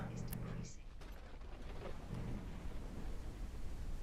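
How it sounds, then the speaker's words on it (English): Faint thunderstorm ambience from the video game Forever Skies: soft rain and a low, distant rumble in a quiet, steady background. "The storm ain't chilled out yet."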